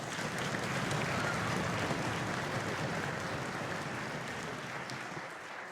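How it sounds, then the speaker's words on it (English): Audience applause at a middle school fifth grade band concert, a dense, even wash of many people clapping that holds steady throughout and tapers slightly at the end, with no talking. "Let's give them another round of applause."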